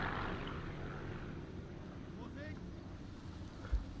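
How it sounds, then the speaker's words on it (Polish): An airplane flies overhead in the Sniper Elite 3 video game, a low, steady droning rumble mixed with wind noise, fairly faint and distant, with a voice speaking quietly under it. "Czekamy za samolotem."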